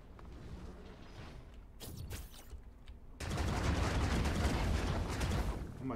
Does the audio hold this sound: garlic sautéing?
no